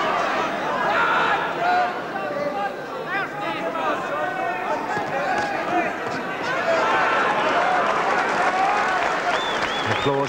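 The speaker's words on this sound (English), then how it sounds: "applause for the left jab from Conteh" A boxing crowd at a John Conteh versus Les Stevens fight applauds and murmurs after a left jab, sustained clapping and cheering mixed with a commentator talking over the arena noise.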